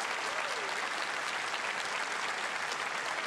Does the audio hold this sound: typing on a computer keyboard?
no